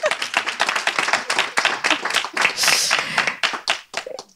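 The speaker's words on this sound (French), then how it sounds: "vous pouvez l'applaudir." A small audience applauds the artist Fabien Zocco at a talk on artificial intelligence and digital commons; close, distinct handclaps with an uneven rhythm, swelling briefly in the middle, then thinning out and stopping.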